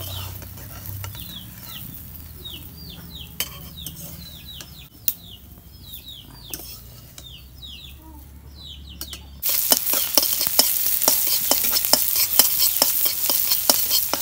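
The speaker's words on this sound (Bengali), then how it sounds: "বাগুনের 2 পিঠে ভাজা হচ্ছে, কি সুন্দর।" Eggplant slices fry on both sides in a pan, a loud, steady crackling sizzle that starts abruptly partway through, with faint bird chirps heard beforehand.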